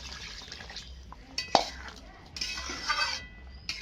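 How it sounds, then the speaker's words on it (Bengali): Water is poured into a pot of egg curry with dal and potato, a brief splashing pour with light clinks of utensils against the pot, heard close. "এবার আমি একটু জল দিয়ে দেবো।"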